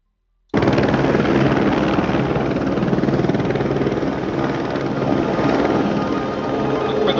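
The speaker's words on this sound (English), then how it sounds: "here's the helicopter crash" Helicopter rotor and engine noise from crash footage of a helicopter hitting a cable, a steady loud chopping drone that starts abruptly and runs continuously to the end.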